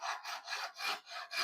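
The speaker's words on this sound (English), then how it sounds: "can't saw and talk at the same time" A hand saw cuts through wood in a steady back-and-forth rhythm, with about five close, rasping strokes and brief pauses between them, and no talking.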